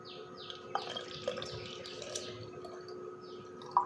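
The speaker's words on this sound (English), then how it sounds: "We should pour water till here." Water is poured into a plastic bottle while trying a lifehack. A close, bubbling trickle with gurgles runs throughout, and faint bird chirps sound in the background. No voices are heard.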